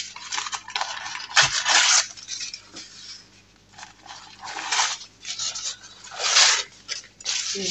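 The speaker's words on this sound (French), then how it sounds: "J'enlève le surplus de papier." Excess baking paper is pulled and trimmed from a cooled tart tin, giving crinkly rustling bursts that rise and fall unevenly and loudest in a few sharp rips, with no talking.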